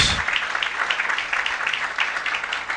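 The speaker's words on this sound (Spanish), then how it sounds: "Dele un fuerte aplauso al Señor." Church congregation applauding together at a service, a full, even wash of many hands clapping that stays steady and fairly loud from start to finish.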